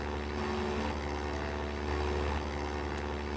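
A plane from a modern vehicle mod in Minecraft takes off, its engine giving a loud, steady droning roar that holds even and unbroken throughout.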